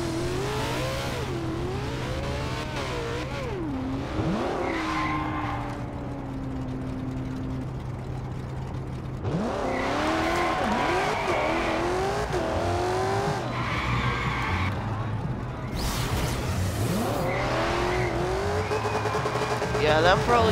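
McLaren P1 in the Forza racing game, with an engine droning and revving through gear changes and repeated tyre screeches from skidding, someone talking over parts of it.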